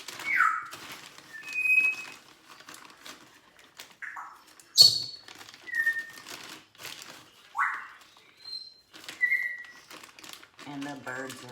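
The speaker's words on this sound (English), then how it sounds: "And the birds are on a roll today." Wild birds sing and whistle in clear separate phrases, bright chirps and short rising and falling notes spaced every second or two, near and fairly loud over a quiet home kitchen.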